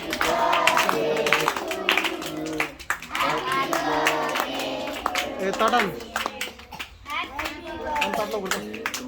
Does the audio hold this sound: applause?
yes